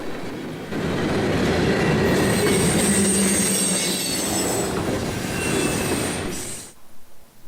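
A CSX freight train rumbles past close by in the rain in North Jersey, with steady wheel noise and a high metallic squeal of wheels, then cuts off abruptly near the end.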